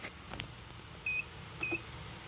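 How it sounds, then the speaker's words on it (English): A heat press set to 175 gives two short, high electronic beeps about half a second apart as it reaches temperature, clear over a quiet room hum. "there it is, it's beeping. That means it's at the temperature."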